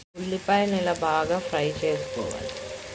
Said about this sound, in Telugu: ఉల్లిపాయలను ఇలా బాగా ఫ్రై చేసుకోవాలి